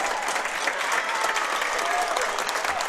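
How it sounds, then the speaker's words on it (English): Bloomsburg fans at a girls' district high school game applaud in a dense, steady wash of many hands clapping at once, sustained and fairly loud for the whole stretch with no talk on top. "Great round of applause by the Bloomsburg fans."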